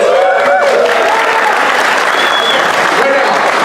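An audience at a Maker Faire 2017 panel on making YouTube content bursts into loud, sustained applause, with scattered cheers and whistles rising above the clapping.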